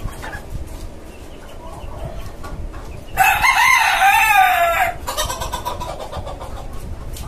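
A desi country rooster on a rooftop poultry farm gives one loud, close crow of about two seconds, set against quieter background clucking and ambient noise.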